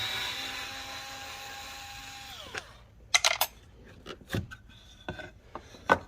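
Power drill driving a screw into a bellows panel during restoration: a whining motor runs steadily and then spins down, followed by scattered clicks and knocks of parts being handled.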